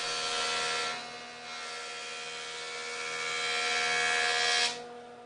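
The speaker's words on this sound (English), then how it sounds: "With the glue dried on the two pieces I glued together, I can now square that up on the jointer." A jointer runs steadily and close up as it squares a glued-up pair of 2x4 pieces for table apron rails, giving a bright, even whir that swells and eases as each pass goes through.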